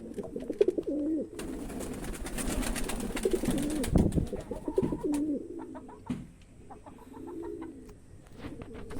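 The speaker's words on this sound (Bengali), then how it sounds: "আরো পায়রা আছে, এই যে" Several pigeons coo in repeated soft, throaty rolls, close by, alongside rustling and fluttering movement and a brief scuffle in the middle; no one speaks.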